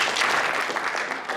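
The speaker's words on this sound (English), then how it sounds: "So how about 2 claps for them?" Audience applause fills a hall at an athletics hall of fame ceremony, a steady wash of many hands clapping throughout, moderately loud with a slight swell and dip near the end.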